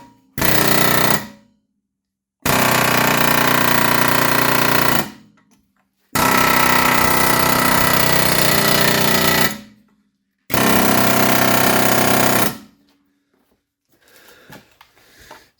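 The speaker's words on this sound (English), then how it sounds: "option one, we're gonna try the air hammer" Pneumatic air hammer working on a stuck rear shock bolt of an Audi A4 B8, loud rapid hammering in four long bursts separated by short pauses, close and harsh.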